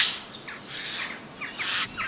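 A jay, a crow-family bird, gives harsh, rasping calls in short repeated bursts, fairly close and loud against a quiet background.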